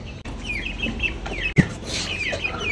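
Chicks and roosters in a home bird setup, with repeated high chirps and clucks close by as the birds are carried to a new spot, plus a brief thump partway through.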